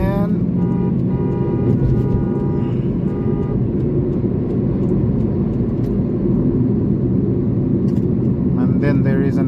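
A Toyota Corolla cruises along a flyover, its engine and road rumble steady and loud from inside the cabin, with a person talking over the drive.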